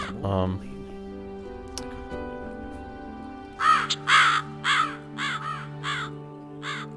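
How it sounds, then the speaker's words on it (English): Crows caw repeatedly in the video game Gothic 2, a series of loud, harsh calls in the second half over steady ambient music, with a brief voice near the start. "these birds are so loud"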